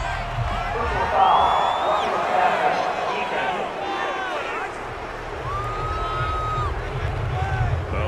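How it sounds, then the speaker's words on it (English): Stadium crowd at an NFL game, Buccaneers versus Football Team, reacting to a roughing penalty flag with a sustained roar of boos and shouts that holds steady throughout, with a commentator's voice riding over it. "This crowd does not like that call."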